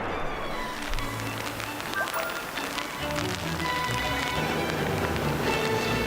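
Rain falls steadily at a fishing port, a dense continuous patter of drops striking surfaces, close and even throughout with no voices.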